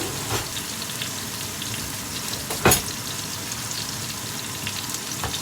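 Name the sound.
steak frying in butter in a pan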